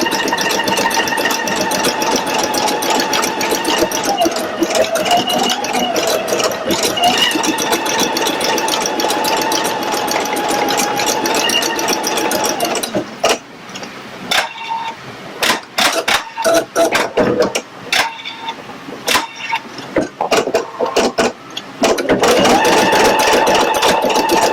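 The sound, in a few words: embroidery machine stitching a design, Pfaff Creative Icon 2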